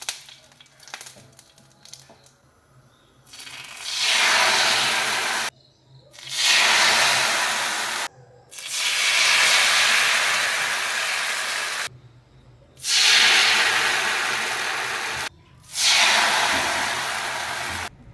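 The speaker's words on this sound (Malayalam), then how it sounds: "മാവ് ചട്ടിക്ക് വയ്ക്കുമ്പോൾ ആ സൗണ്ട് എന്തൊരു ചേലാണല്ലേ കേൾക്കാൻ" Neer dosa batter poured onto a hot pan, giving five loud, broad hissing sizzles that each start abruptly and last a few seconds, separated by short pauses, close by with no talk.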